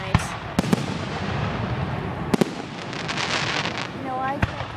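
Canada Day fireworks in Woodstock, Ontario burst in the distance, several sharp bangs spaced through a continuous crackle and rumble, with a whistling rocket near the end.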